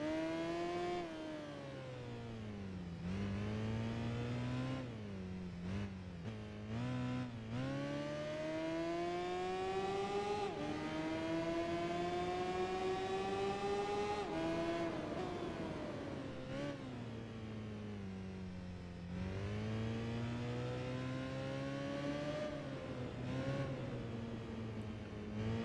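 Motorcycle engine in the PS2 racing game Tourist Trophy, revving continuously and rising in pitch through the gears, with several sharp dips at gear changes and braking, loud and steady for the whole stretch.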